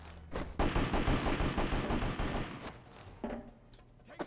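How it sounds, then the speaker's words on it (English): Rapid automatic gunfire bursts loudly in the Predator: Concrete Jungle video game for about two seconds, then tails off into scattered fainter shots and clanks. "Who's shooting at me?"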